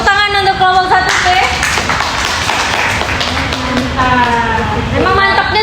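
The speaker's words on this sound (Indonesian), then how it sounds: "tepuk tangan untuk kelompok 1B" Audience clapping for a group during a classroom session on choosing savings products, sharp close-up handclaps under speech, building in the middle before talk resumes over it.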